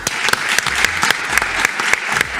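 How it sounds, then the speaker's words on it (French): An audience claps for a guest on a French television programme about Reims, a brief burst of fairly close, crisp applause with individual claps standing out through the steady patter. "Applaudissements pour Arnaud Robinet."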